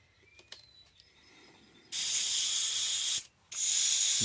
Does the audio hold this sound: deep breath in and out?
no